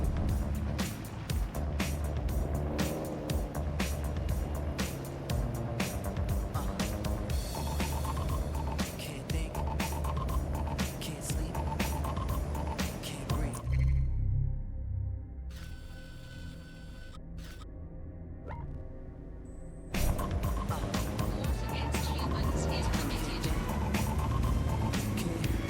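A car cruising on auto drive in Watch Dogs: Legion gives a steady, close engine and road drone with dense rattling texture, dropping away to near quiet for several seconds midway before resuming.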